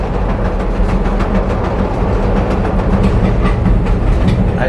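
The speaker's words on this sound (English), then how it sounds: "I do appreciate the elevated trains." Riding aboard a Chicago elevated train: a steady, close rumble with rhythmic wheel clatter and rattling carriage noise that runs continuously and loudly from start to finish.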